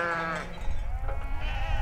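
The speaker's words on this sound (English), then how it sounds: "Schertz sheep flocks navigate through the Boise foothills" A flock of ewes and lambs in the Idaho foothills bleating, several overlapping cries near and far over a low rumble of outdoor background noise.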